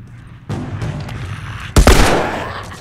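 Gunfire in The Last of Us as an enemy is shot, a muffled shot followed a moment later by a single loud, close blast with a ringing tail.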